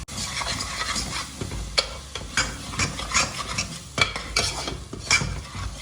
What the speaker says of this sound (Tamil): அந்த டைமில் நம்ம அரைச்சி வச்சுருக்கிறது சேர்த்துக்கோங்க. சேர்த்துட்டு நல்லா வதக்கி விடுங்க.